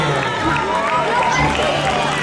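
A crowd at a school Olympic games opening ceremony applauds as young athletes enter. Dense, steady clapping and crowd noise continue throughout, with a voice speaking over it.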